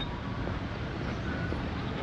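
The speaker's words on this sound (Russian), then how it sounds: "Машины активно стоят в пробке." Dull, steady traffic rumble from vehicles idling in a morning traffic jam in Krasnodar, a broad low hum with no distinct passes or horns, fairly distant.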